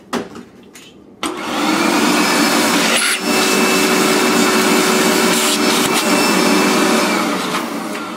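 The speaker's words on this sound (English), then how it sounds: "when you're using a shop vac" A shop vac cleans out a Mazzer Super Jolly coffee grinder, switching on abruptly after a few soft knocks and then whining loud and steady, with brief dips as the nozzle moves.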